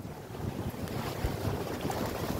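Steady wind roar and rushing water while windfoiling through jibes on a flat Maldives lagoon, a loud, continuous wash of broadband noise with no voices.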